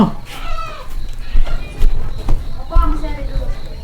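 Chickens cluck and squawk in short bursts, close by and at an uneven rhythm, with people talking over the calls.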